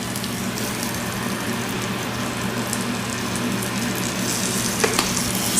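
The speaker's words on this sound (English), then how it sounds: "Saute that together for a moment longer." Rice pilaf with roasted red peppers, tarragon and basil sautés in a pan, giving a steady soft sizzle and crackle throughout with a faint clink near the end.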